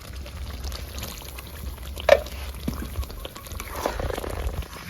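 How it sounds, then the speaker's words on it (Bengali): A little water is poured from a bowl into simmering chicken korma in a pan, giving a short splash followed by soft sizzling and bubbling. "এবারে এখানে বাটি দিয়ে আমি একটু জল দেবো, সামান্য একটু জল দিয়ে দেবো।"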